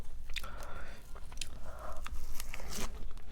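Raw carrot is bitten and chewed up close during a vegan mukbang, giving steady wet crunches and repeated crisp bites with no talking.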